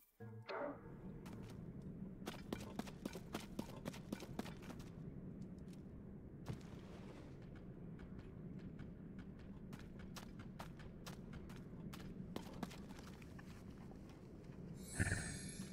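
A skeleton horse in the Zelda Tears of the Kingdom video game trots along, its hooves clip-clopping in a steady, fairly quiet rhythm over soft ambient background for a long stretch, with a brief burst of noise near the end.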